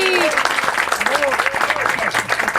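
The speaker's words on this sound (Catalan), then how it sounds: "Un aplaudiment pel públic!" Studio audience applauding on a Catalan TV programme, a dense steady patter of many hands with voices and some cheering tones cutting through on top.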